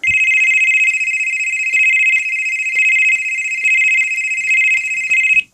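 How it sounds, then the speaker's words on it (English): A rare bone-coloured Motorola Digital Personal Communicator 950 pager rings loudly up close, a shrill steady electronic tone pulsing in regular bursts for several seconds, with no talking. "Let me see if I can try and adjust the ringing volume."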